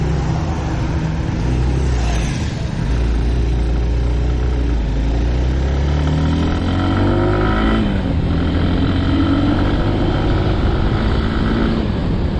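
A Hero Xtreme 160R BS6 motorcycle engine idles, then revs up repeatedly with rising and falling pitch, loud and close throughout, with no talking.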